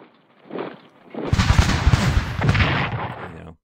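Battle gunfire in Strategic Command American Civil War: a soft thump, then a loud, rough burst of overlapping shots and blasts that rumbles for about two seconds before stopping abruptly.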